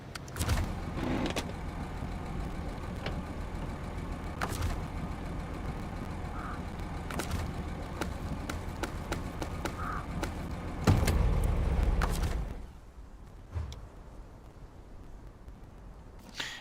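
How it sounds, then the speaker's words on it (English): A truck engine idles steadily in the SnowRunner video game, a low continuous rumble broken by a few sharp clunks. It cuts off near the end, leaving a quieter tail. "I heard the one truck running"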